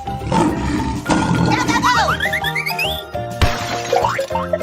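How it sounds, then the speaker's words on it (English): A cartoon lion roar from an animal transformation game, a short burst of growling noise layered over busy cartoon music with boings and swooping effects, loud and up close. "Lion."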